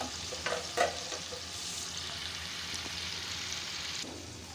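Beef sizzling steadily in hot oil in a pan while a skimmer scrapes and lifts the pieces out, with a few sharp metallic scrapes early and a continuous close frying hiss throughout.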